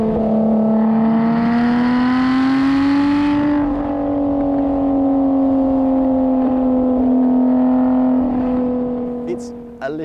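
A Lotus Exige engine holds a steady, droning high-rev note above 5,000 RPM, loud and close, with a brassy trumpet-like tone that dips slightly partway through before cutting off.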